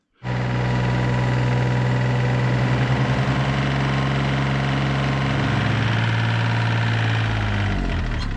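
A tractor engine idles steadily at close range, a low, even rumble with a droning hum that holds for the whole stretch and shifts slightly in pitch near the end, with no talking.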